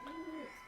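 A single soft coo from a pigeon at a pigeon seller's home in Katwa, Andhara or Madrasi breed, brief and faint against quiet background.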